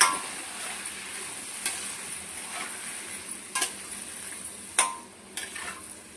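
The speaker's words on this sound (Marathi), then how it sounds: "आता आपण त्यामध्ये टाकूया बटाटे। बटाटे बारीक गॅसवर आपण" Diced potatoes for sabudana khichdi fry on low heat in a pan, a steady soft sizzle with occasional scrapes and clinks as they are stirred, no voices.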